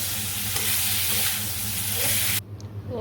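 Malabar spinach sizzling and frying steadily in a pan while being stirred, a loud continuous hiss that cuts off abruptly near the end, leaving quieter clatter.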